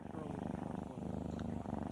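A cat purring with a steady, rhythmic low rumble that runs continuously and fairly close, with a soft voice-like murmur mixed in.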